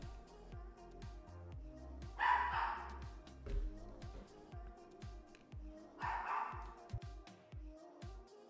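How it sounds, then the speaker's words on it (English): Dogs bark indoors in a few loud clustered bursts against a faint room background, muffled as if heard from another room. "Dogs are just having a party in there this morning"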